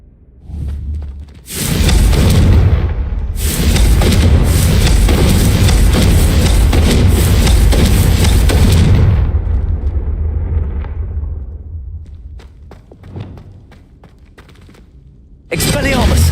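Confringo fire spells blasting in the Hogwarts Legacy video game: a loud, dense roar of explosions with crackling bursts that holds for several seconds, then fades to debris and scattered pops before another sharp blast.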